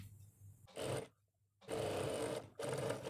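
A sewing machine stitches palazzo pants in three short bursts of rapid mechanical whirring, separated by brief pauses, heard quietly and up close.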